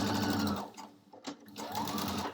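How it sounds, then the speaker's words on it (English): A sewing machine stitches through a small fabric scrap for a quilt, its steady rapid needle chatter running nearly throughout with a brief slowdown mid-stitch before resuming at full speed, close and clear. "I'm going to sew it first."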